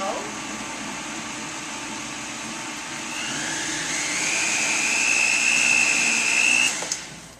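A blender runs steadily while mixing a raw cacao dessert with honey, its motor hum rising in pitch and loudness partway through as it speeds up, then cutting off near the end.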